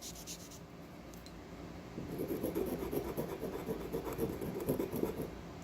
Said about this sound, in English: So you take your pigment and you just grind it on whatever you have, be it a rock, a brick, wherever you are, and it starts to create a powder.